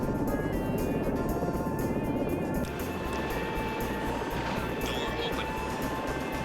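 A simulated rescue helicopter hovers in a search-and-rescue flight game, its engine and rotor holding a steady, loud, continuous drone that thins slightly partway through, with someone talking over it.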